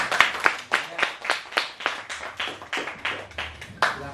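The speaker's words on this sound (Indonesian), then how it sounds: "tepuk tangan dulu buat Laras ya" Classroom students clap in a steady, regular rhythm, about a dozen sharp unison claps evenly spaced, close and clear with little talk.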